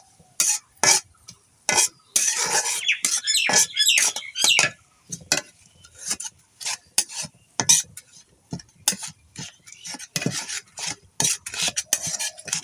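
A mixture being stirred in a cooking pot, heard as close, irregular bursts of scraping and rubbing strokes separated by short pauses, loud and without talking.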